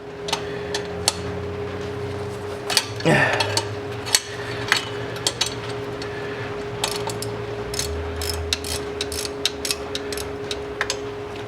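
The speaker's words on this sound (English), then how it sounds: "let's try just using a wrench then, because all I want to do is basically free that bolt up" A hand wrench ratchets on a bolt on a 2003–2010 Saab 9-3 2.0t, with quick clicking runs and sharp metallic taps over a quiet garage hum; one louder clatter stands out near the start.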